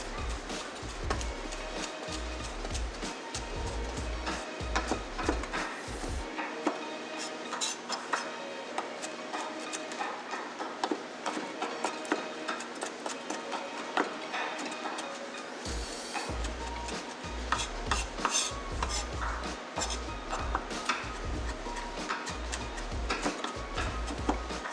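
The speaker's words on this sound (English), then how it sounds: "I'm just going to run my knife through" A kitchen knife chops repeatedly through guacamole ingredients on a cutting board, giving close, rapid tapping strokes in steady bursts with a brief pause in the middle.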